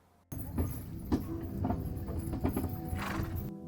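Horse hooves clip-clop at a steady pace while pulling a cart in Romania, close and clear, with creaking and rattling from the cart.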